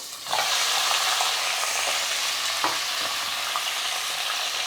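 One kilogram of mutton drops into hot oil with bay leaves, black cardamom and cinnamon for Lucknowi korma, a sudden loud sizzle that keeps up as a steady crackle with a few stirring knocks.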